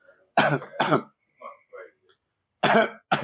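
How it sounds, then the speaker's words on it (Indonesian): Several short, gruff throat-clearing bursts come close and loud, two in quick succession, then a pause with faint murmurs before two more. "secara refleks dia dehem"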